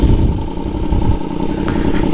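Yamaha YZF-R1M sportbike engine idling steadily close by as launch control is switched on, a continuous loud rumble with slight revving swells and no talk.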